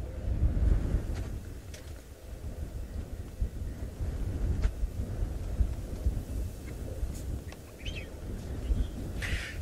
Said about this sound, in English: Getting a bit windy here.